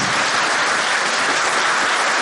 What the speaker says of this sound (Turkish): Alkış var mı?